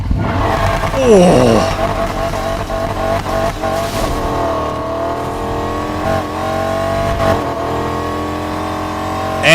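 Supercharged V8 American muscle car in the racing game NFS Heat revving hard, a loud sustained engine roar with rising and falling pitch and a brief tire squeal early on, with a short exclamation over it.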